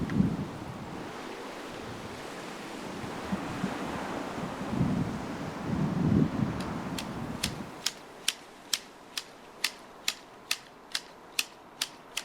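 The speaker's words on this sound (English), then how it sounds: "But that persistent wind returned again in early October." Wind blows steadily through a wildlife garden, a broad rushing roar that swells and fades in gusts, then drops to a quieter hush as a run of evenly spaced sharp ticks or clicks takes over near the end.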